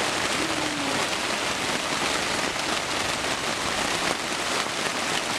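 A heavy downpour falls at a Porcupine Mountains Wilderness State Park campsite, steady close-up drumming of raindrops on a surface forming a constant loud hiss, with a faint short tone early on.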